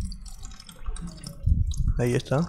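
Coolant and flushing water drain steadily from a Pulsar NS 200 motorcycle, a close, continuous trickling splash running under brief speech.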